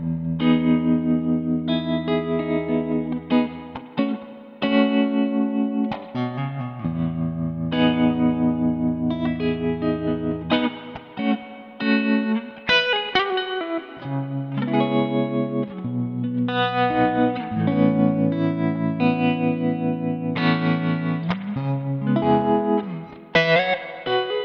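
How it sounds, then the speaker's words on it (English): A clean humbucker guitar plays through a Kalamazoo Hawk amp with tremolo and a generous amount of spring reverb: close, chiming chords and single notes with pulsing, echoing tails. "I tend to go for channel 2, with the tremolo on and like a good amount of spring reverb"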